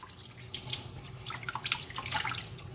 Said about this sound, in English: Now after roasting the pie, we will wash each of it separately.